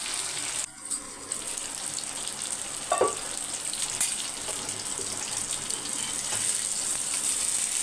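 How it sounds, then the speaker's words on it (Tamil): Fish sizzles steadily in hot oil in a pan, a dense continuous crackle with a few brief clinks and stirring noises. "ஒரு ரெண்டு மூணு தடவை திருப்பி போட்டு நல்லா வறுத்து எடுத்துக்கோங்க"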